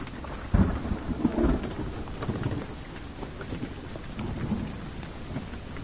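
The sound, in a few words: thunderstorm in the video game Blair Witch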